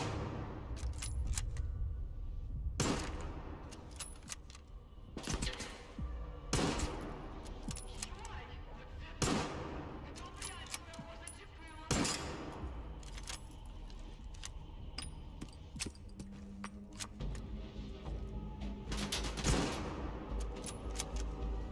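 A powerful gun fires repeatedly in the video game Stalker 2, loud single sharp shots spaced a couple of seconds apart across the stretch, over a steady game background with occasional metallic clinks.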